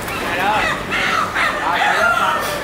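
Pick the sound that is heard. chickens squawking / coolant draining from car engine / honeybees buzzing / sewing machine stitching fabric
chickens squawking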